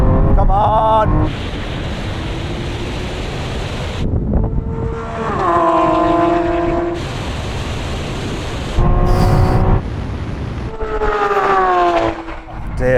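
A Lamborghini Aventador SVJ and an Aventador Ultimae roll on from 50 mph in third gear in Corsa mode, their engines roaring loudly with rising, stepping tones through gear changes, with brief dips between pulls and no talk.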